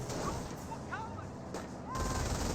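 A captured MG-42 machine gun in the video game Company of Heroes rattles faintly in a continuous, rapid stream of shots, mixed with distant battlefield noise beneath a commentator's voice.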